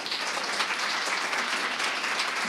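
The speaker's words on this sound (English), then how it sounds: "So please give her a big round of applause." Audience applauding to welcome a speaker at a tech talk event in Belfast, a steady, dense wash of clapping from a crowd that holds evenly throughout.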